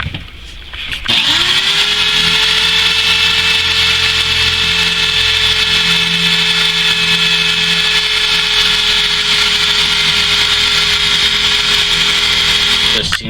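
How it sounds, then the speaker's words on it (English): A power drill spins up and grinds into a car's spot welds in one long, loud, continuous whine with a steady high-pitched tone, close by. "Drill that sucker."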